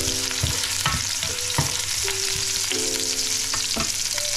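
Onion and ginger sauté in a hot pan for mussels, with a continuous sizzle broken by repeated scraping strokes and knocks of a spatula as the mixture is stirred; no voices.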